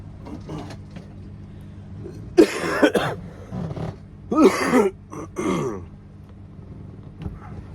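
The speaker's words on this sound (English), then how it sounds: "I'm starting to feel like the dry cough is turning a bit mucusy" A person nearby lets out three separate wet, chesty coughs, each a short loud burst with quieter room noise and low hum in between.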